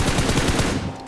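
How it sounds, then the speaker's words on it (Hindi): In the BGMI mobile battle-royale game, an enemy behind the player fires fast automatic gunfire, a dense, loud, continuous rattle of shots that barely eases toward the end. "पीछे से कोई गोली चला रहा है"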